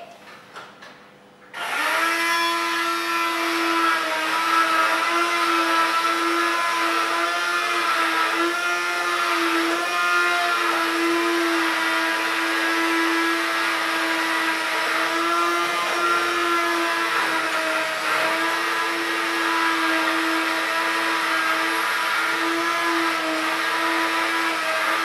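Mixer grinder grinding boiled zucchini, a loud continuous high whirring drone that starts abruptly after a brief quiet moment and runs steadily without pause, close by.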